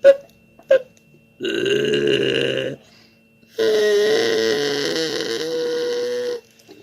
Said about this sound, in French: il rote, il pète en dormant